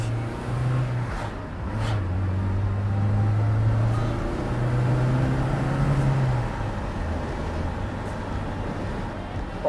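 Porsche 944 engine pulling steadily in traffic, a low droning hum that swells slightly midway through and stays moderate in volume throughout.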